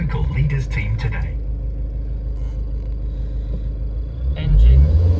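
A 2006 Peugeot Partner 1.9 diesel panel van idles with a steady low rumble, someone talking over it at first, before a louder surge of engine noise near the end.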